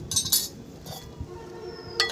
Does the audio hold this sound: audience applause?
no